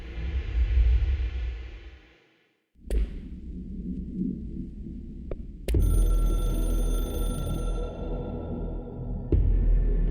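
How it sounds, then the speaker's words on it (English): The hotline telephone in the video game Control sounds amid sharp thuds and a brief silence, then a sustained metallic ringing tone that continues loud and close. "I can hear the hotline ringing in my dreams, constantly ringing."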